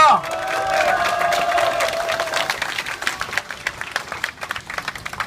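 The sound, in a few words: crowd applause and cheering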